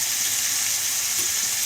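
Potatoes and soaked green peas fry in a pan, giving a steady, even sizzle throughout with no talk.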